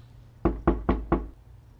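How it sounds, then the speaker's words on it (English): Four firm knocks on a door, evenly spaced and close, with nothing else sounding around them. "Knock, knock."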